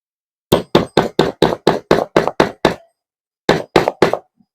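A cable clamp is hammered in during electrical wiring for a circuit breaker setup: nine sharp, evenly spaced close knocks, a pause, then three more blows, with no talking.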